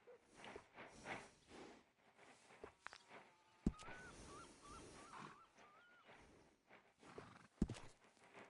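A horse walks with steady clip-clop hoofbeats in Red Dead Redemption 2, soft and close, with faint ambient sounds and a couple of sharp knocks between the steps.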